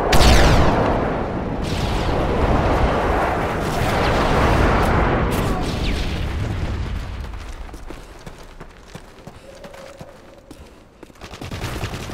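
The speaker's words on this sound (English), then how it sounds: "Friendly airstrike on the way." Airstrike explosions in Modern Warfare 3: a heavy, continuous rumble of loud blasts and booming impacts that swells for several seconds, then fades to a quieter tail with a final thud.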